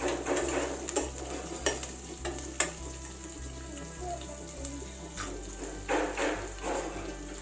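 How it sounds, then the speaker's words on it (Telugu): Green chilies and chopped ginger stirred in a hot oiled pan for a Navratri prasadam, a steady close sizzle with repeated scraping strokes and soft clinks throughout, no talking. "ఆ పచ్చిమిరపకాయలు వేసుకొని వీటిని లైట్గా కలుపుకోవాలి"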